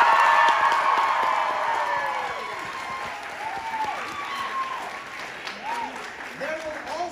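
A live theatre audience at a Dr. Mike tour show in Washington D.C. cheers and applauds loudly, then the clapping and whoops slowly fade into scattered crowd noise.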